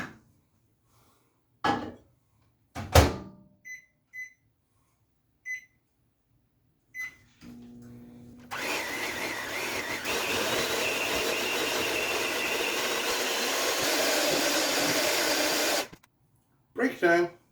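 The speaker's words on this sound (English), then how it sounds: "I'm going to put them in the microwave for about 40 seconds." A microwave oven heats chocolate for a cheesecake, its steady hum running for about seven seconds after a few clicks and beeps, then stopping, with quiet handling noises around it and no talk.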